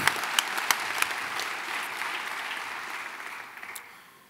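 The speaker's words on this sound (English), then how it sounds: "let's give them a round of applause" Audience applause at an MBA for Executives graduation ceremony in San Francisco, a dense crowd clapping steadily with a few sharper claps at first, then slowly fading over about four seconds.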